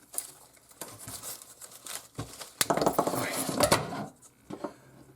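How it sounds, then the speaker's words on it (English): A small plastic pumpkin decoration being cut off a larger Halloween decoration piece: close, irregular clicks, snips and crinkling rustles that cluster into a busier stretch mid-way before trailing off. "I'm going to take this little pumpkin and I'm going to cut it off of this thing"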